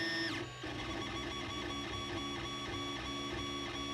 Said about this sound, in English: While the 3D printer is busy making spaghetti